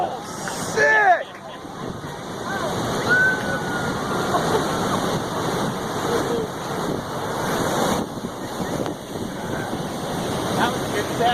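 A set of large ocean waves crashing and washing ashore, a constant loud roar of churning water and wind buffeting the microphone, with a brief whistle-like sound early on.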